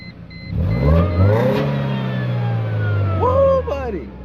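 Modified Mercedes W202 C230 Kompressor with a 2.3-litre supercharged engine accelerating hard, its note climbing steadily through the gears, then a brief lift and another rising pull near the end, loud and close.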